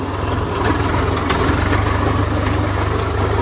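A tractor engine with a rotavator attached runs at a steady idle, producing a loud, close, continuous low rumble with an even throb.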